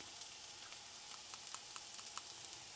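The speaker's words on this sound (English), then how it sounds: "I'm going to add the turmeric." Turmeric going into a hot pan for potato bhaji, with a steady soft frying sizzle and faint pops and crackles all the way through, heard close with no talking.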